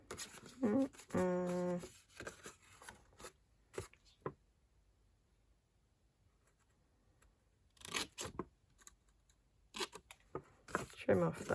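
Scissors snip a paper corner off a journal in a few short, crisp cuts at close range, with quiet gaps between them and talk in the room.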